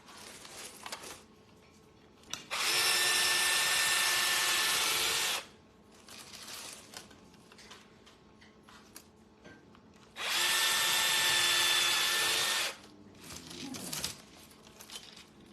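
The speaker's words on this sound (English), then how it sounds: "So I'm gonna drill holes in the side." Two separate bursts of a power drill whirring as it drills holes in the side of a toy, each lasting about three seconds, with quiet rustling and handling noises between them.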